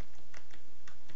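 Computer keyboard keys clicked repeatedly while playing Cat Mario, with about five close, crisp taps at a quick uneven pace over steady background hiss and no talking.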